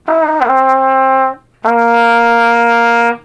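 A trumpet plays two sustained, steady tones, the first with a brief waver near its start, separated by a short gap and played clearly up close.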